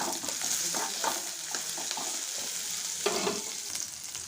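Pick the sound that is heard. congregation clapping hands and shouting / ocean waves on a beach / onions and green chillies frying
onions and green chillies frying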